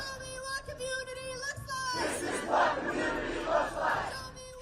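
Crowd of anti-ICE demonstrators at an evening vigil chanting in unison, rhythmic shouted phrases rising after a quieter opening, loud and close with many voices.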